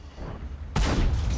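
A WZ-120 tank's heavy main gun fires once in World of Tanks, a sudden close, loud blast halfway through that leaves a dense rumbling tail after a quieter lead-in.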